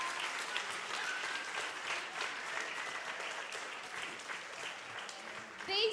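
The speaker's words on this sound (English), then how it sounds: "So give them a big, big round of applause." Sustained applause from a group thanking leaders at a kids' baseball camp, steady dense clapping at moderate level with a brief louder swell at the very end.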